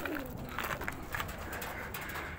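A pigeon chick calls repeatedly inside an abandoned building, its thin, steady cries close and alone against a rough, echoing background.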